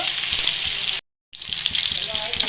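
Fish fries in a hot pan for a masala curry (chappala pulusu), giving a steady, close, bright sizzle that cuts out briefly to silence midway before resuming just as loud.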